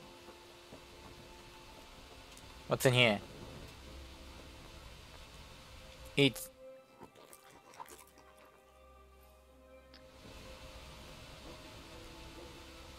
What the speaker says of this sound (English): It's pouring rain today.